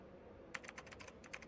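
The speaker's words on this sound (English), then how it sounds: "Oh, I hear typing." Rapid keystrokes on a computer keyboard inside a Halloween horror game's office setting, a quiet run of clicky taps starting after a brief lull over a low ambient room hum.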